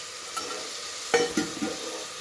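A brief stir of chicken curry ingredients with salt in a hot pan: a soft sizzle with a couple of quick scraping clanks from the spoon, close and short.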